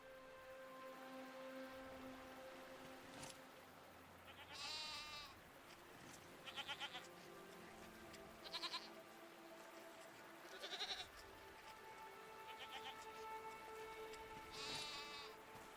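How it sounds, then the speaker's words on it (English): Goat-like creatures in the video game SEASON bleat in short wavering calls, about five spaced every couple of seconds, over a steady ambient hum with tonal background music. "What are these strange goat-like creatures?"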